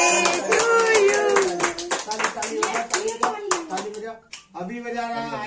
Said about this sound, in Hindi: बजाओ ताली ताली ताली